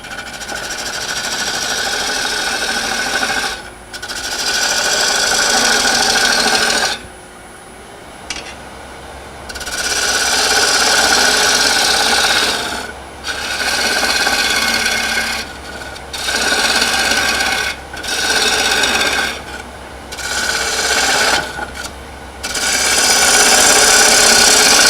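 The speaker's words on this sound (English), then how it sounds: "Now with the 3/8 bowl gouge," Steady rasping and whirring of a 3/8 bowl gouge cutting into wood on a lathe while turning a square hollow form, continuous and close, with several brief pauses as the tool lifts off the spinning piece.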